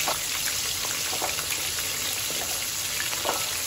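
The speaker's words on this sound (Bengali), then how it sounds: "এবার গরম ডুবো তেলের মধ্যে আমি এক এক করে মাছগুলোকে দিয়ে সুন্দর করে মাছটাকে" Pieces of lotte fish, Bombay duck coated in batter, deep-fry in hot oil with a loud, continuous crackling sizzle and scattered pops throughout, no voices.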